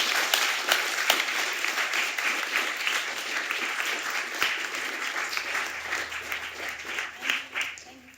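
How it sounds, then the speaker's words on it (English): A studio audience at a talk show claps steadily, with dense, sustained applause at an even level that tapers slightly toward the end. "give a round of applause for that"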